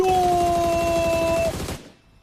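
Rapid automatic gunfire in a battle royale video game rattles loudly and continuously for about a second and a half, then cuts off into a fading tail.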